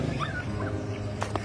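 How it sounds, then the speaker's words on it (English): A small puppy trapped in a huge woodpile gives high, thin whimpering cries, a few rising whines and then short sharp yelps, close by over steady outdoor background noise. "a little puppy was crying for help."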